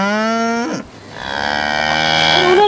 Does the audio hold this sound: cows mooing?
yes